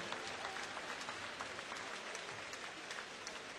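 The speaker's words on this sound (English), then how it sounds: "applaudissements pour cette démonstration de basket fauteuil" Steady applause from a basketball arena audience after a wheelchair basketball demonstration, dense clapping throughout with a faint crowd murmur underneath.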